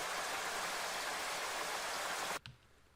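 Dense, steady rainfall from a sample library pours as smooth, even hiss, then stops abruptly near the end, leaving quiet.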